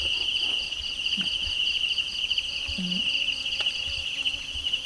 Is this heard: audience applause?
no